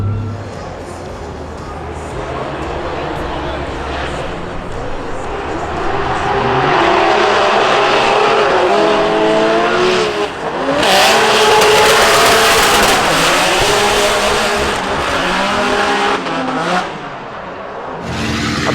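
A 2JZ-engined BMW E36 drift car battles at a Formula Drift event in Long Beach, its engine roaring loud and close with repeated revving swells and a sustained screaming passage. A voice is faintly heard under the noise.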